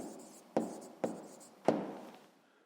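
Pen or pencil writing out a math exercise solution on paper, three distinct strokes with scratchy onsets and brief decays, close and quiet with no talk.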